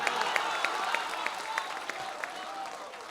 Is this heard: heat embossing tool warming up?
no